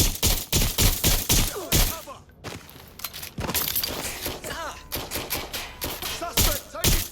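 Gunfire rattles through a Watch Dogs Legion firefight in bursts of loud, rapid shots, broken by brief pauses and a short lull, with some voice mixed in.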